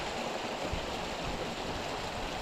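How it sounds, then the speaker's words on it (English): Water from a small roadside spillway pours steadily in a continuous, loud rushing wash close by, with no voices over it. "there's a little spillway dumping out."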